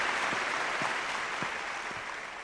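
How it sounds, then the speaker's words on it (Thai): Applause at an award ceremony, a steady wash of crowd clapping with a few distinct nearer claps, gradually easing slightly, no talking. "ขอเสียงปรบมืออีกครั้งค่ะ"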